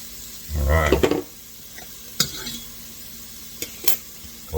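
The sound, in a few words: stirring sizzling garlic in a frying pan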